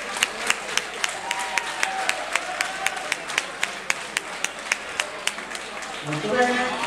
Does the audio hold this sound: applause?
yes